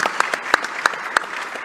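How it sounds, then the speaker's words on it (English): A short burst of applause at a city summit, scattered individual claps standing out sharply over a soft crowd wash, brief and fading. "yes, a round of applause"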